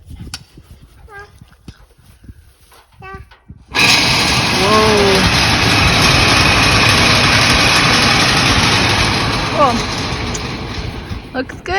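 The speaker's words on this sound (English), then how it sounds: "plug it in and run it so you can see it." A grain bin sweep auger, just repaired, starts up after some quiet talk and clatter, then runs with a loud, steady mechanical roar and rattle, with brief voices over it.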